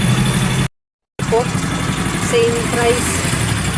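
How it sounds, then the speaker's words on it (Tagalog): A tricycle's engine is left idling in the background with a steady low rumble, while a voice speaks over it and the sound cuts out briefly once. "hindi ko lang papatayin ang makina dahil marami naman tayong gas ngayon"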